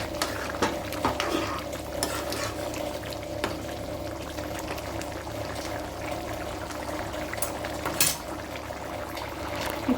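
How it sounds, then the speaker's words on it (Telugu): Onion and egg curry (ulli gadda kodi guddu pulusu) simmering in a pan, a steady low bubbling hiss throughout with occasional faint scrapes and clinks, close and even in level, no talking. "మళ్ళీ ఒకసారి చూడండి ఎంత బాగా అనేది ఉడుకుతుందో కదా"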